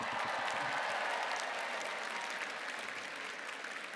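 A large commencement audience applauds for the College of Biological Sciences, a dense, continuous clapping that tapers off slightly toward the end.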